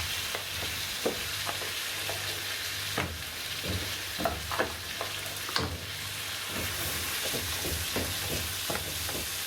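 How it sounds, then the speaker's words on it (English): Rice for a Spanish paella stirred while it fries in a pan: a steady sizzle with repeated close spoon scrapes and taps, no talking. "So now all we'll do is we'll mix this in. So we're going to cook out the rice a little bit."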